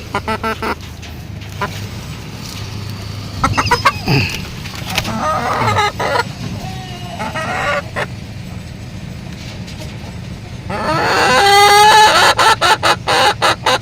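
Black Australorp chickens cluck in a series of short calls close by, with a denser burst of loud clucking near the end over a steady low background hum.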